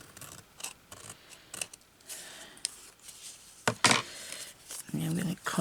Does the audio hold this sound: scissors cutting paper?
yes